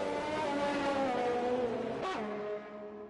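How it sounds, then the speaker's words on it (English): Engine of the number 54 McLaren race car in the F1 2020 video game during a Canada race, a high revving whine holding steady, a sharp upshift or rev change near the end, then fading. "So, just a few corners to go now for Gamer James in the number 54 McLaren."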